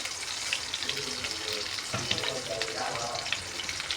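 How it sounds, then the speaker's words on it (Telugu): Tempering spices sizzle in hot oil for an aloo kurma, a soft, continuous frying crackle at moderate distance with faint stirring and clatter, no voices. "తాలింపు అయితే వేసేస్తున్నాం సార్."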